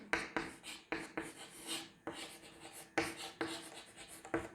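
Handwriting during a biology lesson: a pen or chalk scratches in short strokes and bursts, close and quiet, with brief pauses between words and no speech over it.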